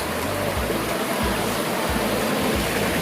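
Running water pouring steadily in a loud, constant rushing stream, close by and unbroken, with no voices.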